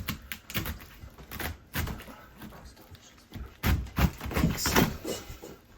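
Knife cutting around and removing the center core of a cabbage, a series of irregular crisp cuts and crunchy thuds on a board, close and moderately loud, with no talking.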